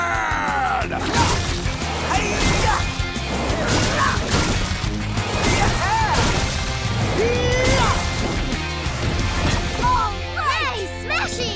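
A wrecking ball crane in a cartoon smashes with repeated loud crashes and whacks, layered with swooshes, music and character voices throughout.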